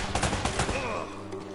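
Uncharted gunfire, a short rapid volley of shots close and loud, blending into a ringing game backdrop.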